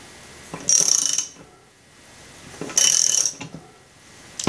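Bolt tightened on a puller to draw off a drive disk, two bursts of metallic ratcheting and grinding about two seconds apart, separated by quiet pauses.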